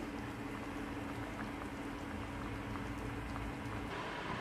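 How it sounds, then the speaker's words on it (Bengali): Egg curry simmers in a pot, giving a faint, even bubbling hiss with no talk over it. "দেখো বন্ধুরা, ডিমের ঝোলটা বসিয়ে দিয়েছি"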